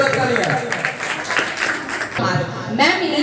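A school farewell-ceremony audience gives applause that runs steadily beneath a loud announcer's voice and other talk, the clapping dense but partly masked by speech throughout.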